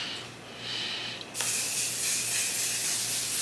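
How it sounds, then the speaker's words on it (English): A soft hiss fades out, then a close, steady mist of One Size makeup setting spray bursts on and continues as an even, airy hiss to the end. "I'm going to go in with my One Size setting spray."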